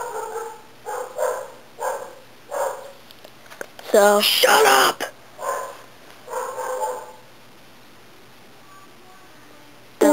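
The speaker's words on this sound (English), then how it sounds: "Or is it not you, it is another dog." A dog barks in several sharp bursts, with a louder close cluster in the middle, alongside people talking, one voice loud and annoyed.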